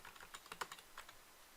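Quick, irregular keystrokes on a computer keyboard, a quiet burst of clicks lasting under two seconds before trailing off.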